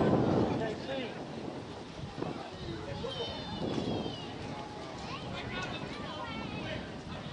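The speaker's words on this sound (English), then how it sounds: "The wind is starting to pick up." Wind gusts at an outdoor baseball championship game, a steady rushing buffet against the microphone throughout, with talk faintly underneath.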